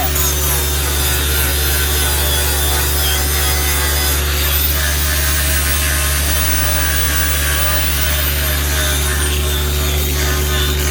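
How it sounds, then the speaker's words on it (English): A steady, loud power tool whirs continuously with a gritty rubbing texture, like a sander working across wood, running without pause throughout. "And you don't need super beefy when you're just sanding"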